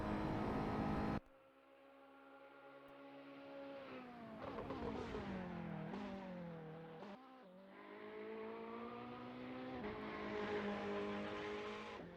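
Race car in a racing video game at Silverstone, 1967 circuit setting, accelerating hard out of a corner: a loud, close engine note climbing through the revs, with brief dips at gear changes and a short burst of noise at the start.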